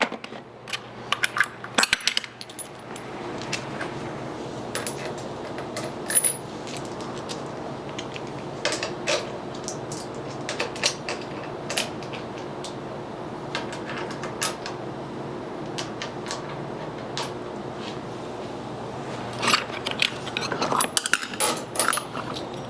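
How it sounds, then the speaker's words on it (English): Steel bolts set back into the jaws of a Schunk KSC-F 125-362 workholding chuck, giving scattered sharp metallic clinks and taps over a steady low shop hum, with a few louder clatters near the end. "now that these jaws are both rotated, I can go ahead and place my bolts back"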